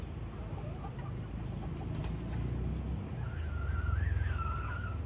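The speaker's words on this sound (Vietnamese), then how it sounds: "Toàn gà mã vàng thôi." Yellow-hackled young chickens cluck and call at close range, a busy, continuous mix of fowl sounds with a rising, wavering call standing out toward the end.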